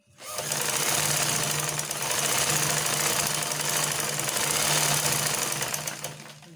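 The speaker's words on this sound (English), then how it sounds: "And then you follow the curve while you sew." A sewing machine stitches a curved seam on a shift dress, its motor whirring fast and steady at close range for several seconds, easing slightly once midway before stopping at the end, with no talking.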